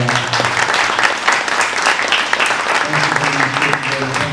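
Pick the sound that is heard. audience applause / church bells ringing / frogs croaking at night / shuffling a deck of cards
audience applause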